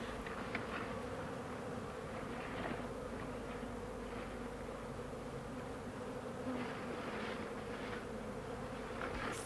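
A steady, droning hum of many bees buzzing together, continuous and fairly soft, with no voices.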